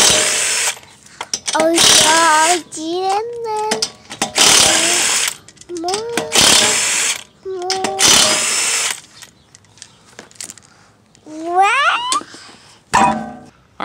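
A power tool zips off the 19 mm wheel nuts on a Honda Accord in a run of loud bursts, each with a rising whine that spins up and winds down, separated by short pauses, one person exclaiming briefly.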